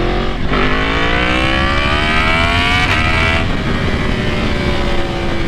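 A 2018 Yamaha MT-10 motorcycle engine revving hard through a full acceleration pull, its pitch climbing steadily, dropping briefly at a gear change, then rising again, loud and close over wind noise.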